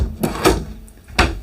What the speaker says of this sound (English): So these are your drawers.